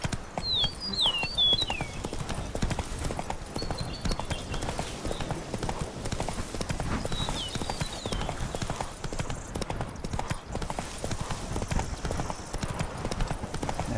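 Hooves of the horse Roach pound in a fast, rhythmic gallop in The Witcher 3 Blood and Wine, close and continuous, with a few faint bird chirps in the background.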